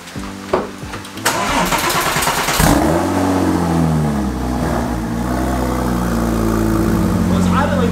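A Porsche 911 Turbo cranks briefly, then fires up with a loud flare of revs and settles into a steady, throaty idle close by, with no talk over it.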